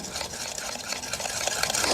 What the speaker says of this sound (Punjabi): ਹੁਣ ਆਪਾਂ ਖੰਡ ਨੂੰ ਦਹੀਂ ਦੇ ਨਾਲ ਮਿਕਸ ਕਰ ਲਾਂਗੇ